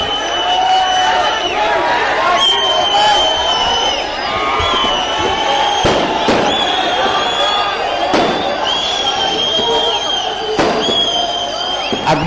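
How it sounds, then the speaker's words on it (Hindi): Fireworks crackle and pop in sharp bursts over a dense, continuous roar of a cheering crowd at an outdoor AIMIM victory rally, with whistling shrieks and loud bangs recurring every couple of seconds throughout. "आतिशबाजी रोकें, जलसे के बाद करें आतिशबाजी"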